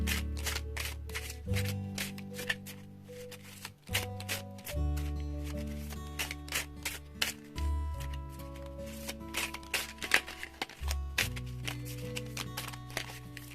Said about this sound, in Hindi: टारो में से हम 6 कार्ड लेंगे और इस ओरेकल में से 7 कार्ड।